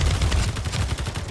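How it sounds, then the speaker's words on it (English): Enemy gunfire in Space Engineers, a quick run of rapid, close, evenly spaced shots. "Now he's starting to shoot at me."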